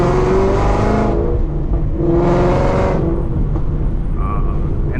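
Loud, steady engine roar from a Whipple supercharged Mustang fitted with a Corsa Extreme exhaust while driving, with two swells of higher-pitched whine and rev rising and easing back, heard continuously from close by.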